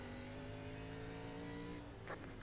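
A race car engine in the iRacing simulator during an ARCA race at South Boston Speedway, a steady loud droning whine holding one pitch with no talk.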